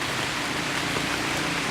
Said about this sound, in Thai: เก็บข้าวของแต่ฝนก็ยังตกอยู่